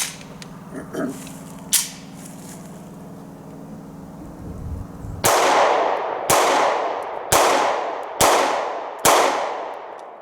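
A Taurus G3C pistol fires CCI Blazer aluminum-case 115 grain rounds: five loud, sharp reports in a steady, evenly spaced string, each ringing out and decaying before the next, preceded by quieter handling clicks.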